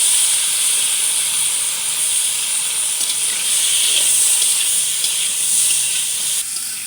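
Pointed gourd sizzles loudly in a hot wok outdoors, a dense continuous hiss and steam-like crackle that stays even throughout with no talk.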